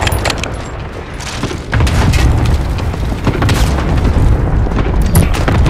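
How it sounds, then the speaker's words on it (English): Cluster strike in a first-person shooter, a loud continuous rumble of overlapping explosions with sharp blasts scattered throughout, heavy and close, building after a quieter opening. "Cluster strike incoming."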